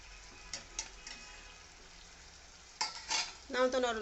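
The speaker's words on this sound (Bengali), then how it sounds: "আমি এই যে নেড়ে ছেড়ে একটু ঢাকনা দিয়ে ঢেকে দেবো" Bottle gourd cooking in a pan is stirred with a few scraping, clinking strokes over a faint sizzle, quiet overall, with a voice rising briefly at the end.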